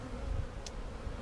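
Honeybees buzzing faintly at an open hive during an early-season inspection, a low steady hum close by with no talk over it.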